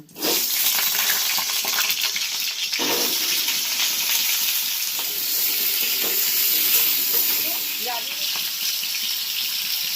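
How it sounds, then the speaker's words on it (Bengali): Potatoes frying in hot oil in a wok give a loud, dense, continuous hiss that holds steady throughout, with faint scraping underneath and no clear talking. "এর মধ্যে আমি আলুগুলো দিয়ে দেব, দিয়ে আলুগুলো একটু ভেজে নেব।"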